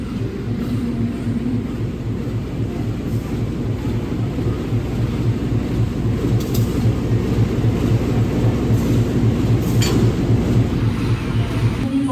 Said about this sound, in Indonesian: dari arah barat juga masuk kereta api Purwojaya